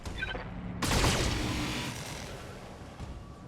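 A mech in the BattleTech game fires a full weapons salvo: a sudden loud burst of rapid impacts and explosions that rolls on as a dense, decaying rumble, with lighter cracks near the end.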